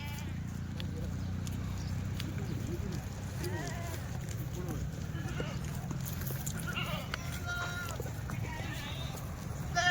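Kathewadi goats, a dairy and pregnant breed stock just delivered, bleat repeatedly in a close herd against a steady low rumble, with occasional hoof clatter and people talking in the background.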